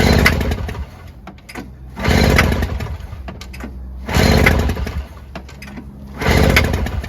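A Toro CCR2000 snowblower engine, set off choke, is pulled over repeatedly without catching, giving three loud, close, rhythmic cranking surges about two seconds apart with quieter gaps between them.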